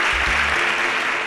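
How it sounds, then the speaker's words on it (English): Studio audience applause on a Nigerian televised quiz show, a brief loud burst of even, dense clapping with no talk over it. "A round of applause for her"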